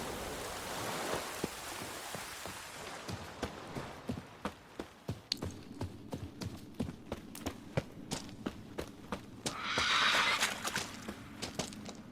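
Roach, a horse in the video game The Witcher 3: Wild Hunt, clip-clops in a steady rhythm through falling rain, then lets out a loud, bright neigh near the end.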